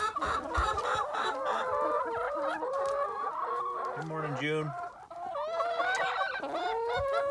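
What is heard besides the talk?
chickens clucking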